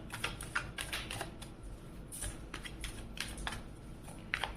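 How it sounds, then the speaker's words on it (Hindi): Tarot cards being shuffled by hand in a series of soft, crisp riffling bursts and taps, fairly close and quiet, with no talking. "तो कार्ड शफल करते हैं 2 मोर टाइम"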